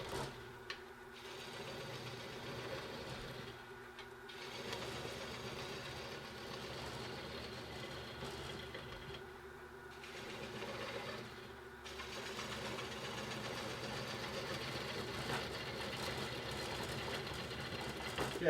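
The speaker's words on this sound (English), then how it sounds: "Then I'll start hollowing out the inside." A wood lathe runs steadily throughout as the inside of a rough-turned wooden piece is hollowed out, giving a continuous motor hum with rhythmic tool-cutting swells, close and fairly loud, with no talking.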